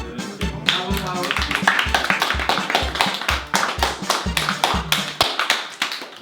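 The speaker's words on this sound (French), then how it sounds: "vous m'avez applaudi comme ça" A small audience claps in a steady, rhythmic beat, like a talk-show crowd applauding a performer, punctuated by sharp, close hand claps while voices chatter and cheer throughout.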